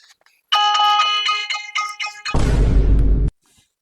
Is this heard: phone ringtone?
yes